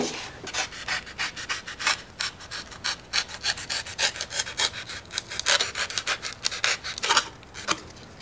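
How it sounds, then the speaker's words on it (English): A blade is worked back and forth inside a foam-board canopy of an FT Corsair model plane to cut a bevel. It makes quick, close, rhythmic rasping strokes that continue without a break. No one speaks. "So I've cut a pretty big sliver on the inside of the canopy."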